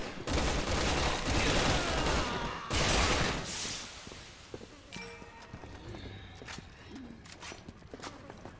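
Gunfire from the co-op game Resident Evil 6, Chris and Piers campaign on PS4, as dense overlapping shots in the first four seconds, then sparser scattered reports and clatter fading under the game's background sounds.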